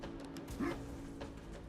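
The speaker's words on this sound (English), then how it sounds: "is that my dog? Is he having a nightmare?" A dog whimpering in its sleep, one short rising whine heard near and fairly clear over a low steady background hum, without distinct barks.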